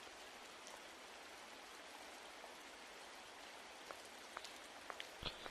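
Steady rain falls throughout a scene in The Wolf Among Us video game, a continuous hiss of drops with a few sharper drips and taps toward the end, no talking.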